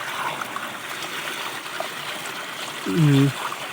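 Fresh, cold water flows steadily in a village setting, a continuous close trickling rush, with a brief voice cutting in near the end.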